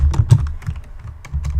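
Rapid clicking of a computer keyboard as Java code is typed, a quick irregular run of close, crisp key presses with brief pauses and no talking.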